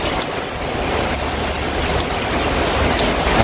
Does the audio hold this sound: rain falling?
yes